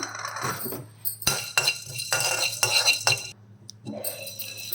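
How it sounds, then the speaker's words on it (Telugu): Whole garam masala spices sizzle in a pan while a metal spoon scrapes and clinks against it, with irregular stirring knocks up close. "ఓల్ గరం మసాలా ఫ్రై చేసుకుందాం"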